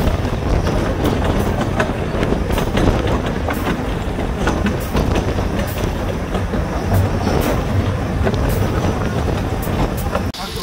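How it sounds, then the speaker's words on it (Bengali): A Llanberis Lake Railway train moving along the line, with a continuous loud rumble, rhythmic clatter and wind buffeting the microphone throughout. "তো আবার ট্রেন চলাচল শুরু করলো, আবার আমরা যাত্রা শুরু করছি আমাদের শেষ গন্তব্যে।"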